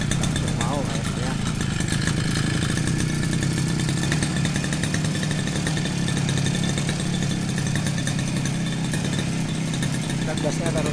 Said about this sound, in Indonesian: Yuk kita coba, yuk hidupkan yuk mesinnya yuk.